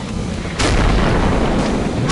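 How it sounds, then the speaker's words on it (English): A loud, close explosion in the video game Killing Floor bursts in suddenly and rumbles on as a dense, roaring blast that fills the rest of the moment. "Oh, yeah, explosion."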